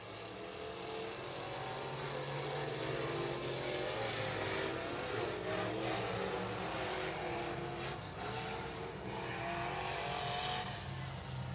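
Race cars roar past on a speedway, a distant swelling and fading engine drone from the pack down the backstretch, with a faint commentator's voice running underneath.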